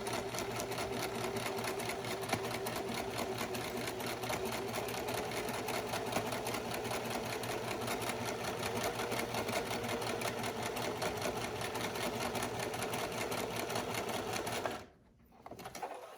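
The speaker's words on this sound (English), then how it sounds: "I have it on my sewing machine and I'm going to let her go now" A sewing machine stitches fabric, running continuously at a fast, steady whir with rapid needle ticking, close up, then stops abruptly near the end.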